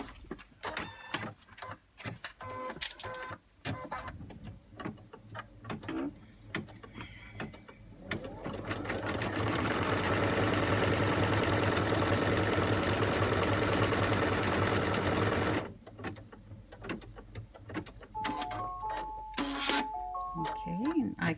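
Embroidery machine stitching a placement stitch on fabric held in a hoop, a steady mechanical whir lasting about seven seconds between bursts of talk and clicks, with beeps near the end.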